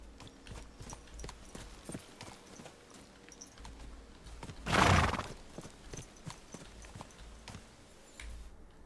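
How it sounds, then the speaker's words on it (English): Horse in the medieval video game Kingdom Come: Deliverance II: soft, steady clip-clop of hooves walking, broken midway by a loud, brief whinny, then the hoofbeats carry on quietly. "There you are, my favorite teleporting horse."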